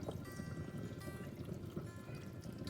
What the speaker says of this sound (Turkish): Şimdi bunun içerisindeki bu meyanı buraya döküyorum ben.